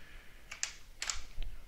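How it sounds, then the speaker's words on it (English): Short bursts of key clicks on a cheap computer keyboard during a Happy Wheels game session, a few quick taps in two small clusters, close and fairly quiet with no talking. "can I do it with this crappy keyboard?"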